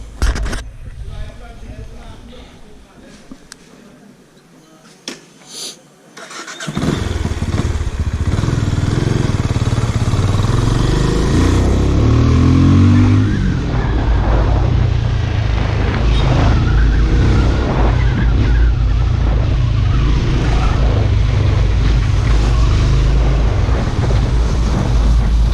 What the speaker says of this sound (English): we'll just take a ride with this bike.